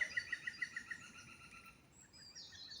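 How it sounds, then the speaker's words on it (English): A quick run of high, repeated chirps from noisy birds nearby in woodland, followed by fainter calls over soft outdoor background. "some really noisy birds you can hear."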